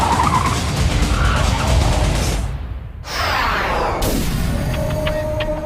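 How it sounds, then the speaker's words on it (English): A car locks its wheels and skids toward a truck at a city intersection, a loud sustained tire screech over traffic roar, briefly dropping away before the noise resumes. "locks up the wheels and skids into the truck"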